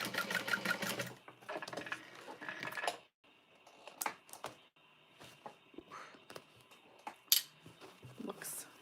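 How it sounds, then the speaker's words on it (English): A sewing machine back-stitches fabric for custom orders. Rapid, rattling stitch bursts come up close at the start, then give way to quieter, scattered clicks and handling noises with short pauses. "I'm just going to follow that, back stitching every once in a while"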